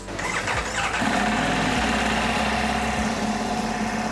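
A Ducati motorcycle engine cranks and catches, then runs loudly and close, its pitch dipping and rising as it settles toward a steady idle, with a check engine warning showing.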